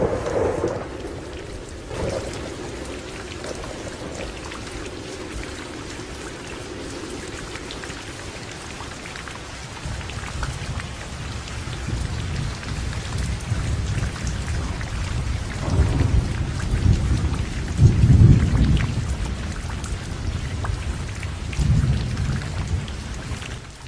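Heavy monsoon rain pours steadily throughout around Deesa, Gujarat, before dawn, with deep rumbles of thunder rolling in during the second half, growing louder before easing slightly.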